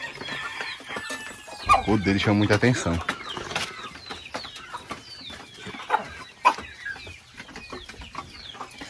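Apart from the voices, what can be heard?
chickens clucking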